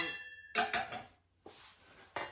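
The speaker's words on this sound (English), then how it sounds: "Putting the fat pan back on." Metal fat pan set back onto a Cadac Safari Chef 2 high-pressure gas barbecue: a few close clanking knocks and scrapes of metal on metal, separated by brief quiet gaps.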